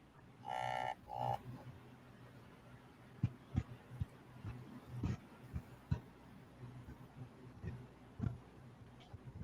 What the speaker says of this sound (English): Someone has a robotic cow, I think. That's what I heard.